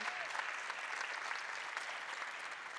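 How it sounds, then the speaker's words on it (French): Applause for an award winner at a tech awards ceremony, a steady, even crowd of clapping hands throughout, somewhat distant and moderately quiet. "On peut encore l'applaudir."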